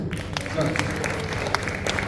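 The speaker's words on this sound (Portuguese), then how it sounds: "Vamos aplaudir o Senhor?" Church congregation applauding together at a worship service, a steady wash of clapping filling the room, with some voices and murmurs mixed underneath.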